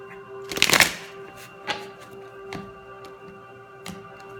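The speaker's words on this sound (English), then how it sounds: "So I'll pull 5 cards for the divine feminine energy here." Tarot cards being shuffled close up in a quick riffling burst, followed by a few isolated soft card flicks and taps against a steady faint background hum.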